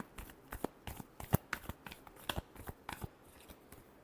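Tarot cards shuffled by hand in a run of crisp, rapid riffling snaps and soft flutters, close and fairly quiet, with no voices.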